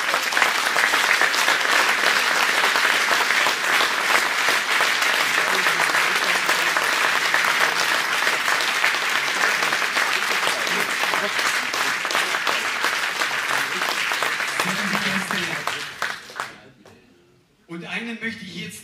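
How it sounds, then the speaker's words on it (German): A crowd at a brass band concert gives sustained, loud applause, with dense clapping that holds steady for a long stretch before tapering off and briefly picking up again. "das ist ein riesen Applaus wert"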